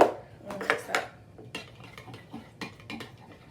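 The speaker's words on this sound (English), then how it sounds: "I'm gonna mix that up." A utensil stirs and scrapes thick slime mixed with contact lens solution in a bowl, giving close clinking and sticky scraping strokes in an irregular rhythm, with no talking.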